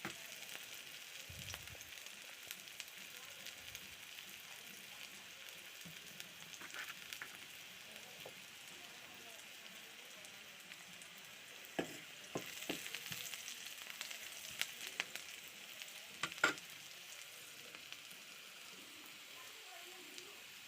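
Ginger garlic paste and chilli frying in a pan make a soft, steady sizzle and crackle at low volume, with occasional stirring knocks and pops.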